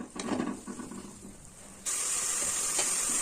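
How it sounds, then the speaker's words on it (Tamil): Onions sizzle in a hot pan while a chicken kurma is cooked. A quiet crackling frying sound comes first, then it jumps abruptly into a loud, steady hiss that holds to the end. "ரொம்ப வெங்காயம் செவக்கணும்னு அவசியம் இல்லைங்க ஓரளவுக்கு வதங்கி இருந்தா போதும்"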